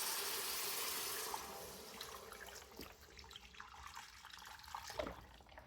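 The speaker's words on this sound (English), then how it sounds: "we're gonna put some beef broth in" Beef broth poured from a carton into a pot for Italian beef, a steady broad liquid splash that thins to softer trickling and drips, close and alone.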